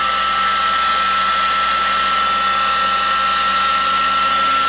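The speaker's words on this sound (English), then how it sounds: "We're going to use a heat gun" A heat gun blows a constant, loud whirring rush of hot air while shrinking heat-shrink tubing over wiring connections for a Sonex aircraft harness, steady throughout with no talk.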